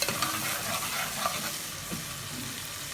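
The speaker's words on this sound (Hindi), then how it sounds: "यहाँ पे हमारा अदरक लहसुन और ये हमारी सब्ज़ मिर्च फ्राई हो चुकी है" Ginger garlic paste and green chilies fry in a pan with a continuous close sizzle and soft stirring scrapes, steady and without talk.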